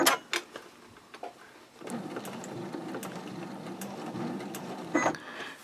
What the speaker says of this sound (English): we're going to stitch down